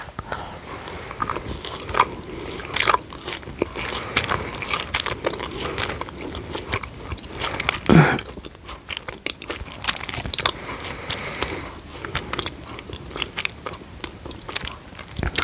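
Vegan knobbly chocolate being bitten and chewed close up, with continuous crunchy, wet mastication and crackles, one louder crunch midway, and no talking.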